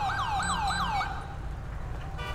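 Ambulance siren in the police game GTA V LSPDFR, a loud rising-and-falling wail repeating about four times in quick cycles, then cutting off and leaving a low engine rumble.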